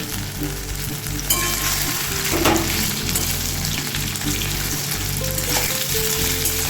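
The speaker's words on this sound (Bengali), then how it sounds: "একটু লাল করে ভাজবো আলুগুলোকে" Half-boiled potatoes frying in hot oil with chillies in a pan, a loud steady sizzle with bubbling and occasional stirring scrapes, close up with no talking.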